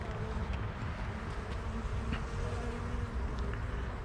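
A dense, steady drone of many honeybees buzzing together at a hive during inspection, close and continuous, with a few individual insects zipping past.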